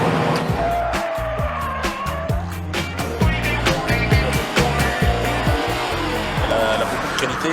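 A 1999 Subaru Impreza GT Turbo wagon accelerates hard, its turbocharged engine revving up in repeated surges with gear-change dips and some tire noise, while someone talks over it from inside the car.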